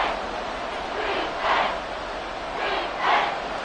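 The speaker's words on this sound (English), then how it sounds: "the crowd getting into it as we come up on a big 3rd down" A broad crowd roar from a simulated NFL stadium in Madden 24 ahead of a big third down, swelling twice in steady waves under a steady wash of noise.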